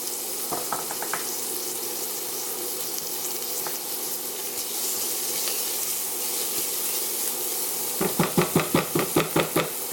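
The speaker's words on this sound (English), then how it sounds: "we're just gonna let that sweat for about 2 to 3 minutes until the onions become translucent" Minced garlic and onions sweat in a pan with a steady, close sizzling hiss, followed near the end by a quick run of sharp, regular scraping knocks as a utensil works the pan.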